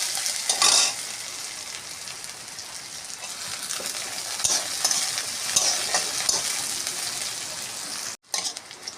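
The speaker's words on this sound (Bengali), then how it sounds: "পেঁয়াজটা ছাড়বো আগে পেঁয়াজটা একটু ভাজা ভাজা হলে সবজিগুলো দিয়ে দেবো" Onion frying in a pan after a five-spice tempering produces a continuous close sizzle with crackling and stirring scrapes, ending in a brief break and a short burst of sizzle.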